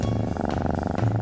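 A voice imitates a cat's purr with a low, rolling, rumbling hum while reading aloud from a witch-and-cat picture book. The purr is close and continuous for about a second.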